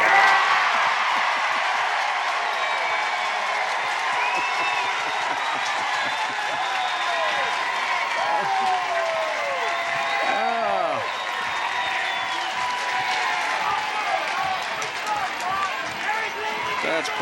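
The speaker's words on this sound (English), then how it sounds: "This decision here is going to draw a reaction one way or another from this crowd, and I'll let you listen to what that is." A stadium crowd at an NCAA softball super regional game in Eugene, Oregon reacts to a replay review decision with a broad, sustained roar, scattered shouts and whistles, while voices speak over the noise.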